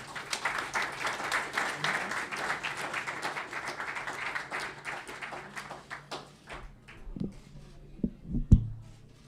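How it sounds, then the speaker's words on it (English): Audience applause at a book launch for Christine Forster, a full burst of many clapping hands that thins out toward the end into a few scattered, louder individual claps and knocks. "Keep the applause going for Christine Forster, ladies and gentlemen."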